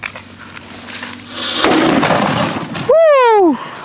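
A Narasimha firecracker buried in soil goes off in a village outdoors, a loud muffled boom with a spray of dirt, followed by a rising whistling tone.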